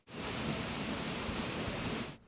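Loud, steady rush of waterfalls in Animal Crossing, a broad continuous roar of falling water that holds evenly for about two seconds before cutting off.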